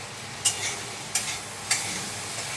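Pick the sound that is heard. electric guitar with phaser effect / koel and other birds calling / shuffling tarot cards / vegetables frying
vegetables frying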